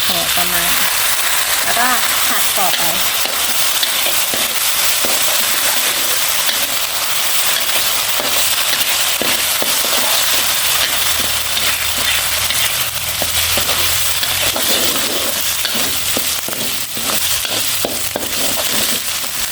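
Loud, continuous sizzling and crackling of chili paste frying in a hot wok, with occasional scraping stirs, steady throughout.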